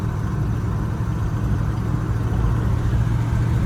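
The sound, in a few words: old barn-find car engine rattling while driving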